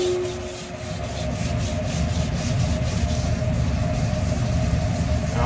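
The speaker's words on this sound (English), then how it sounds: "it's going to take some scrubbing" Steady abrasive scrubbing on the steel flat top grill of a food truck, a continuous close rasping rub with a faint background hum.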